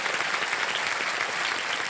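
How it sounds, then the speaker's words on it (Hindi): Studio audience applause on a televised quiz game show, a dense, loud, continuous wash of clapping that holds steady throughout. "तो ताली बज जाए इसके लिए"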